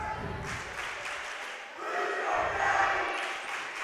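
A student cheer block roars at a high school volleyball game, Eastern Hancock versus Monroe Central, with a steady crowd din that swells louder midway, heard in a gym beneath an announcer's voice.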